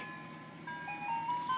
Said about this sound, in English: I see the ice cream truck, guys.